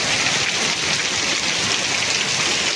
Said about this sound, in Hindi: केने आवाज तो सुनता जे वर्षा हो